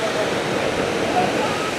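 Cheonjeyeon waterfall on Jeju, Korea, roars as a steady, dense wash of falling water, loud and constant, with a voice faintly present over it.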